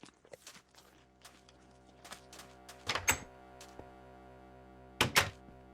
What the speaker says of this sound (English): Why do I hear footsteps?